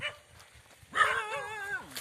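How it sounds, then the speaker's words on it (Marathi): A dog barks and whines, a rising then falling yelp-like cry lasting about a second, over quiet outdoor background. "इथे एक मला कुत्रा दिसलाय"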